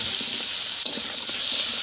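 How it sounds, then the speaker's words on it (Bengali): Potatoes and onions fry in hot oil with a steady, fairly loud sizzle, broken by one sharp pop and a few light clinks of stirring, no speech. "দিলে আলুটাও ভাজা হবে, তার সাথে পেঁয়াজটাও ভাজা হয়ে যাবে।"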